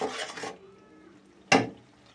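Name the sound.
stirring chicken curry in a pot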